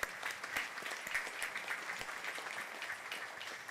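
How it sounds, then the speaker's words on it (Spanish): Church congregation applauding at the close of a Sunday Mass, many hands clapping in a steady, even patter that fills the space without pause, fairly close and uniform in loudness. "Un aplauso a todos los que nos apoyan."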